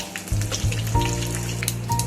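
Curry leaves hit hot ghee with mustard seeds and cumin for a dal tempering, a bright crackling sizzle that flares suddenly and keeps spitting with small pops, close and fairly loud with no talking.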